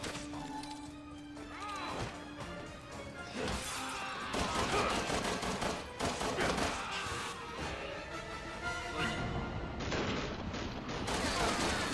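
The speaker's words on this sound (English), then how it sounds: "I totally shot the lady once." Resident Evil 6 gameplay with dense bursts of gunfire, smashes and heavy impacts layered over game music and effects, loud and continuous throughout.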